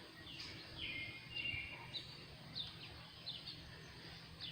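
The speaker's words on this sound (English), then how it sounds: "You can hear the birds." Wrens and other nesting birds chirp and sing outdoors, faint scattered short calls over a quiet background hum.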